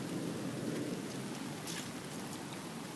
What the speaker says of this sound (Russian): Такой хороший, сильный дождик. А с грозой такой вообще красота.